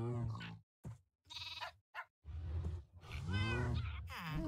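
A penguin mob in the Minecraft modpack Sky Factory 4 gives several short bleating, wavering calls in close succession, loud and near, alone with brief gaps between them.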